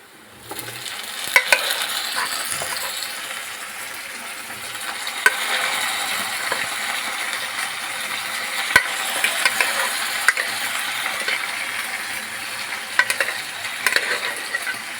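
Country rooster chicken pieces fry and get stirred among golden-browned onions in a hot pan, giving a steady, close sizzle with scattered scraping strokes and light clicks of the spoon throughout.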